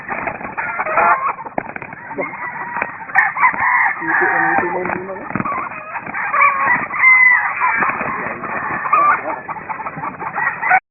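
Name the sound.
rooster crowing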